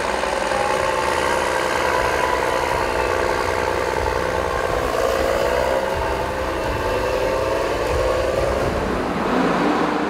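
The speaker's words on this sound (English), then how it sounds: "It is then spread out and compacted by 2 tractors." Two tractors spread and compact chopped maize silage in clamps beside cattle sheds on a large arable farm, their engines droning steadily at mid distance with a constant mechanical rumble and no speech.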